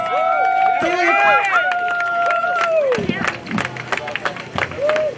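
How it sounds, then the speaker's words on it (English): At a July 2021 political rally, a crowd breaks into applause and cheering. The clapping swells into a scattered, lively patter after a voice speaks over the opening. "So please, Derek Gibson, give him a round of applause."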